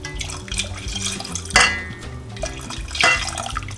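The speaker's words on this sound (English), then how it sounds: "So now I'm going to take it off the heat and slowly add some milk in and keep stirring it." Milk poured slowly into a roux for macaroni and cheese while being stirred, making soft liquid trickles and wet splashy swirls, close and intermittent, with two louder pours partway through.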